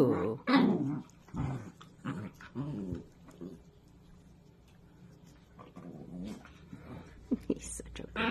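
Two pet dogs growling as they play together indoors, with rough, irregular bursts of growls and grumbles up close, and a person talking over part of it.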